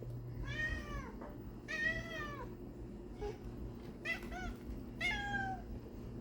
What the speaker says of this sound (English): So now my cats are yelling at me because they want more chicken.